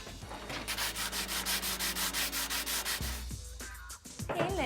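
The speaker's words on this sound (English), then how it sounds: "I want to see sandpaper against the wood." Sandpaper rubbed on wood in steady, even back-and-forth strokes with a rhythmic scratchy rasp, close and fairly loud, ending in a few irregular scrapes.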